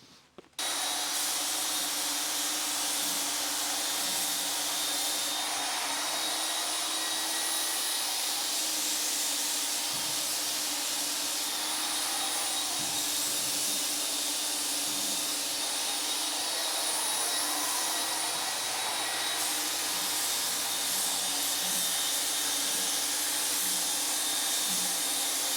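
An Apollo HVLP Precision-6 Pro spray gun lays down clear coat in a steady, close, loud hiss that runs almost unbroken with small shifts in level, and no one speaks.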